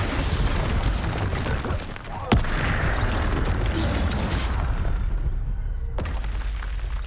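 Bombarda explosion spell cast in the Hogwarts Legacy video game, a sharp booming blast standing out over dense, loud game noise and score, followed later by a second crack.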